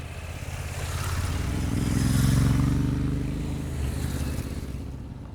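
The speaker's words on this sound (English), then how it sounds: "today we're riding a Honda 750 Hornet" A Honda Hornet 750 motorcycle engine hums steadily in the low range, swelling louder toward the middle of the ride and easing off again, with wind noise over the top and no voices.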